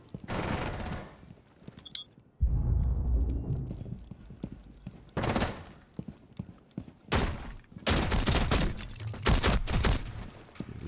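Suppressed gunfire from a console shooter video game, rattling out in several dense bursts separated by brief pauses, loud and close, with no talking over it.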